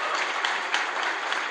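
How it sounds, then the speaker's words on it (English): An audience claps steadily in a dense, continuous wash of applause that fills the whole short stretch at an even, fairly loud level. "we give him a round of applause for being reasonable and polite"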